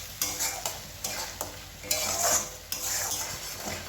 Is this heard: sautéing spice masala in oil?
yes